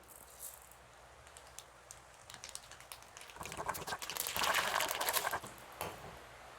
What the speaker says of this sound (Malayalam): എണ്ണ നന്നായി ചൂടായി കടുക് ഇട്ട് കൊടുക്കാം.